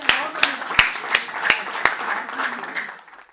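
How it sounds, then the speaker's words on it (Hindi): Sharp claps ring out in a steady rhythm, with a poetry recital audience's scattered clapping swelling beneath before fading away. "एक बार बहुत ज़ोरदार तालियां बजाकर वीरेंद्र जी को कविताओं के लिए आमंत्रित करिए"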